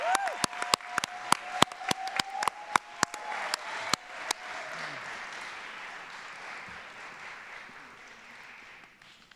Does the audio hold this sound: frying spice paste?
no